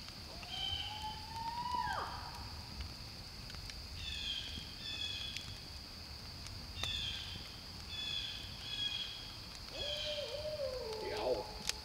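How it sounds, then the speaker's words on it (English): Owl hooting near a campsite, a few soft calls at moderate distance over a steady outdoor hiss, with other bird calls mixed in. "The owl."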